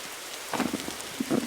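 Rain in the Roblox game 99 Days, a soft background hiss broken by a few irregular louder patters and splashes.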